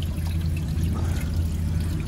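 A 2002 Vitromex Marathon low toilet bowl refilling with water after a flush, a steady close rush and trickle of running water that continues evenly throughout.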